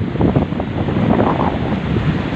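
Wind and surf at a seashore, a steady broadband rush with rolling wave wash and microphone wind buffeting throughout, no voices.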